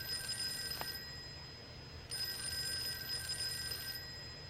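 A telephone rings in the horror video game Fork Road, a steady electronic bell tone repeating in two long bursts over a faint background hum, with no talking.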